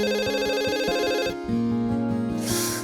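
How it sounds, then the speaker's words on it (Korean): A telephone rings with an incoming call, a continuous electronic bell-like ring pattern that is loud and close, heard alone with no talking. "전화 한 통이 걸려옵니다."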